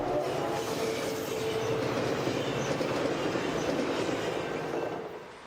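Coaster commuter train in San Diego County rolling past, a loud steady roar of wheels and rail clatter that holds throughout and fades slightly at the end.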